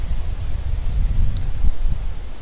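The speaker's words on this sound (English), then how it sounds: "Too windy up here. Very windy." Strong wind buffets an exposed hunting spot outdoors, producing a continuous low rushing roar and rustle close to the microphone with no one talking.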